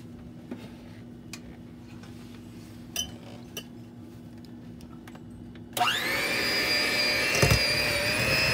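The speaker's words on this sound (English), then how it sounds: "cream my sugar and butter" An electric mixer starts up after quiet kitchen clinks and whirs steadily, creaming sugar and butter for a Jamaican Christmas fruit cake, with a loud, constant motor hum and a brief rattle near the end.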